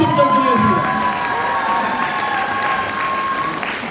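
Audience applause and cheering fill a hall at a politician's book launch in Daegu, a steady crowd clapping throughout with scattered shouts and voices mixed in.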